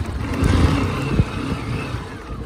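Honda Shine motorcycle climbing an off-road slope, its small engine revving and labouring close by in a short, continuous burst with a few bumps and no talking.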